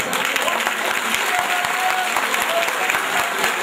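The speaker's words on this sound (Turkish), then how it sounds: "Alkışlar size de gelsin." Steady applause from an indoor crowd at a neighbourhood headman candidate introduction night in Turkey, sustained clapping throughout at moderate distance with no voices standing out.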